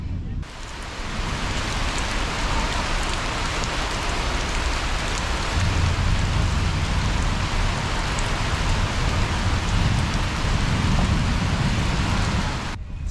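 Heavy storm rain pours down in Thailand, drumming steadily on nearby surfaces. It is a dense, continuous hiss, loud and close, with no break for the whole stretch.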